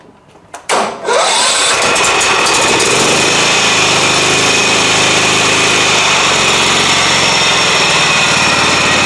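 Simplicity Broadmoor lawn tractor engine, just fitted with a reworked muffler, cranks briefly and fires, then settles into a loud, steady running drone close by.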